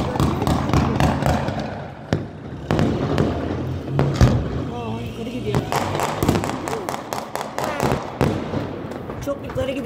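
A fireworks display crackles and pops in rapid bursts, with sharp bangs and scattered crackling mixed with excited voices of nearby onlookers talking over the show.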